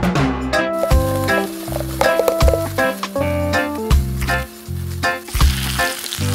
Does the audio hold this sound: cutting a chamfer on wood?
no